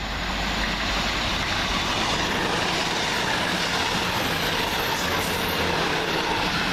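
A Cross Country passenger train pulling into Smethwick Galton Bridge station, a loud continuous rumble of wheels and engine close by, with faint rail squeal near the end.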